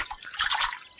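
Cartoon water dripping and trickling in a quick, close burst of splashy wet patter that swells in the middle and then fades a little, with no voices.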